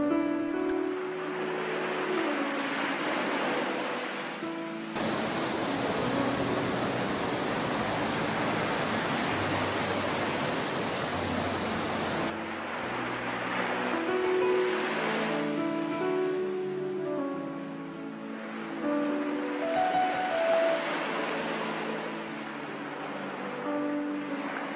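The Myrafälle waterfalls rush with a dense, hissing roar for several seconds in the middle, framed by other sound before and after.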